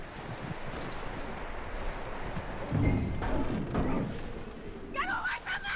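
Horse hooves clip-clopping in the western video game Red Dead Redemption, a soft, rhythmic patter of steps under faint ambient background, with brief voices near the end.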